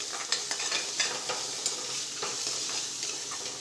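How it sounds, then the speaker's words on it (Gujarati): Onion and spice masala with salt, amchur powder and garam masala sautéing in a pan for cheese masala dosa filling, a steady close sizzle with scattered sharper spatula scrapes and stirring clicks, no voices. "હવે આપણે 1 મિનિટ સાતરીશું, એટલે કાંદો પણ સંતળાઈ જશે સાથે અને મસાલા પણ સાથે સંતળાઈ જશે"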